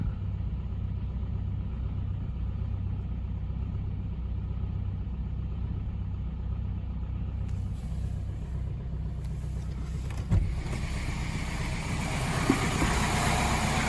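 A Subaru/Opel 1.7 diesel engine idles roughly with hunting revs, a close steady rumble with a rhythmic surge, later joined by brighter hiss and a couple of sharp knocks.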